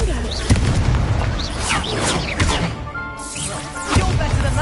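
Confringo spell explosions in the Hogwarts Legacy video game, a rapid run of loud booming blasts and crashes in heavy combat, with a voice speaking among the impacts.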